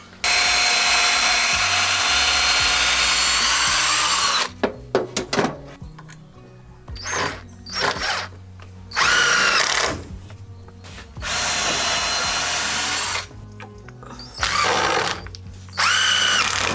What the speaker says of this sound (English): Just drill and put a screw in.